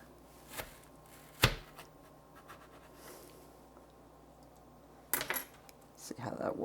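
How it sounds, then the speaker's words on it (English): A knife cuts through a tomato omelette, giving a few sharp, quiet clicks and taps of the blade against the surface beneath, spaced apart with a soft scrape near the end. "And I'm going to slice through it."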